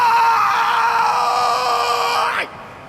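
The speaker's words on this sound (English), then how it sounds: "Yawning is your body's way of shouting" A person lets out one long, loud yawn that sounds like a strained yell, a sustained open-throated howl lasting over two seconds before it drops off sharply into quiet.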